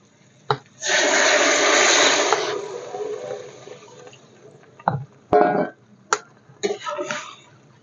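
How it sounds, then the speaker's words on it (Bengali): Water is poured into a pan of fried spice paste and potato for raw banana kofta curry, a loud rushing splash for a couple of seconds, followed by a few short clanks and knocks. "জল দিয়ে দেবো"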